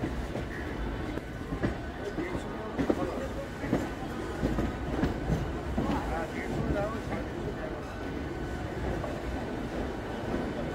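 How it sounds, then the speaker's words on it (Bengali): A Barddhaman-Howrah super local train on the chord line rolls into Howrah station, its steady rumble and rail clatter filling the clip from start to finish, with faint voices mixed in. "ট্রেন ঢুকছে হাওড়ায়।"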